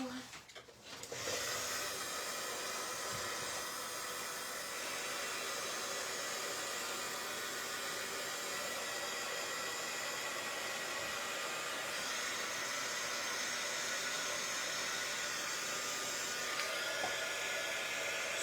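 A hair dryer blows steadily to dry craft paint, a loud, continuous close whoosh that starts with a click and holds an even roar throughout.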